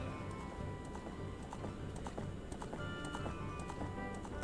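A horse's hooves clip-clop quickly across a field in the video game Ocarina of Time, a fast rhythmic beat under a busy, noisy game soundtrack.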